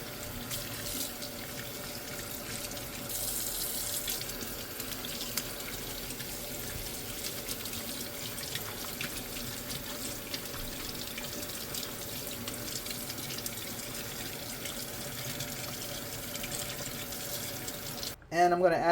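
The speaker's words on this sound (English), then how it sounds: "Wash these fruits." Tap water runs steadily into a sink while fruit and an apple are washed, a constant hiss at moderate level that stops abruptly near the end.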